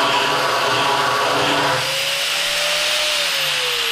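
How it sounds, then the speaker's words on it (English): An angle grinder fitted with a sanding disc grinds metal with its nose dipped, giving a loud, steady, continuous whine and rasp that shifts slightly in pitch partway through, with no talk. "So in order to grind, I have to dip the nose."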